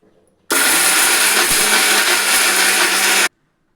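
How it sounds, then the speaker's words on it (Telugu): A kitchen mixer grinder runs for about three seconds, grinding curry leaves, garlic cloves and rock salt into a dry powder; the motor starts abruptly, holds a loud steady whir with rattling contents, then cuts off sharply. "మూత పెట్టుకొని మిక్సీకి వేసుకుందాం"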